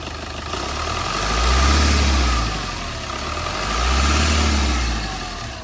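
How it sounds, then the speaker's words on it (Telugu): Diesel engine of a 2019 Maruti Suzuki Swift Dzire VDI automatic idling close by, a steady low rumble that swells twice into gentle revs and settles back, with no voices. "వెహికల్ సింగిల్ సెల్ఫ్లో అయితే స్టార్ట్ అవుతుంది సార్ ఎటువంటి స్టార్టింగ్ ట్రబుల్ లేదు"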